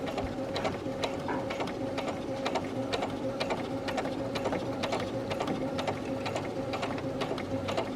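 Sewing machine stitching around the corner of a facing seam on a cami, a fast, even mechanical whir with regular clicking needle strokes, close and steady throughout.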